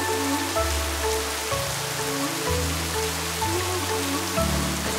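Steady rain patters densely on surfaces while riding a boat on a lake near Jauja, Peru, with a low droning hum underneath.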